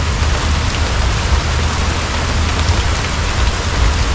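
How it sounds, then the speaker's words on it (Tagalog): Steady, dense rain falls during a rainy morning motorcycle ride on a Yamaha PG-1, a loud, even hiss with a low rumble underneath and no voices. "Sinabayan pa ng ulan. Parang musika sa ating ano, sa ating tenga."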